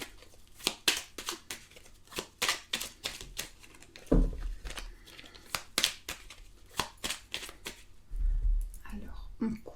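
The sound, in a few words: cutting and shuffling a deck of tarot cards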